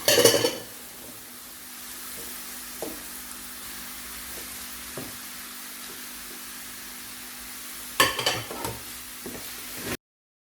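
Peppers fry in a pan with a continuous soft sizzle, punctuated by occasional clicks of a utensil stirring and scraping, with louder clattering bursts at the start and again near the end.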